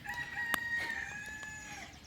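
A backyard rooster crows once in a drawn-out, ringing call at moderate distance, with a sharp click near the start and light outdoor ambience.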